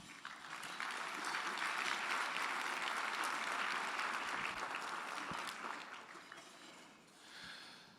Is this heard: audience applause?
yes